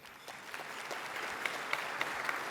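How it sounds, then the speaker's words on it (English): A room of people applauding the ancestral keepers of the land at a YMCA community changemakers celebration, moderate-volume clapping with a few sharper individual claps standing out near the end. "please give them a round of applause"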